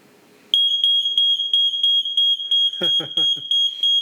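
A smoke alarm beeps loudly in a rapid, steady pulsing pattern, with a brief burst of speech under the shrill tone.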